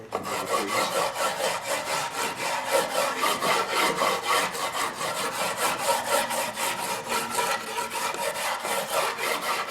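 Charcoal being rubbed back and forth onto a circle-mill-cut wooden board, a steady rasping scrape repeating in quick, even strokes throughout.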